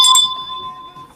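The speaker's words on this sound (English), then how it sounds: "That bell's the best." A small handheld bell gives one bright ring that holds a clear sustained tone and fades out over about a second, loud and close with no talking.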